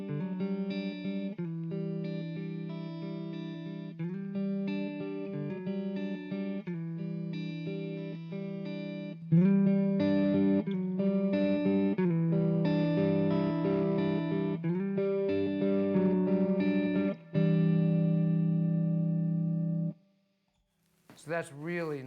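An electric guitar runs through a TCT-50 amp with light saturation, playing sustained chords and short riffs with a chorus-like shimmer. The sound is loud and steady, then cuts out near the end before a brief return.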